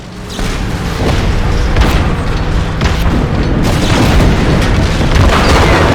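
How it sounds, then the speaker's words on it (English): A cannon fires and its shells explode in Just Cause 3, producing loud, continuous rumbling booms with overlapping blasts that fill the whole stretch without a break. "I do feel like it is a faster cannon, though."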